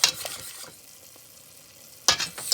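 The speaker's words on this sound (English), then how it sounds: "Let's see if I can stir the boil out of it or not" Cherry jam bubbles on the stove as a spoon stirs it, with brief scraping bursts at the start and end around a quieter, low simmering hiss.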